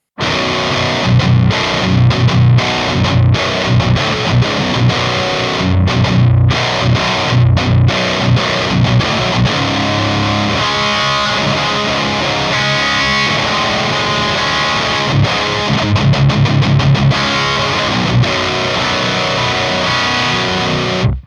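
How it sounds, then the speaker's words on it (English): Heavily distorted electric guitar downtuned two semitones through a Nano Cortex pitch shifter, playing a dense riff with chords and palm-muted chugs, loud and continuous throughout, with a thick, slightly doubled tone. "Let's downtune the guitar. Let's say 1 or 2, let's go 2 semitones."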